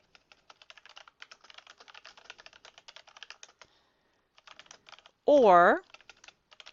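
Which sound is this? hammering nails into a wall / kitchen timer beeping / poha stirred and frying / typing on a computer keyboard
typing on a computer keyboard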